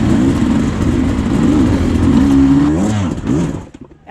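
Beta 300 Race Edition dirt bike engine warming up in springtime: a loud, close idle whose revs rise and fall in wavering blips, then briefly drop away near the end.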